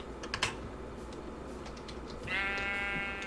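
A pink sheep in the Minecraft Java Edition 1.16 game gives a single bleat in the second half, following a short burst of keyboard typing clicks.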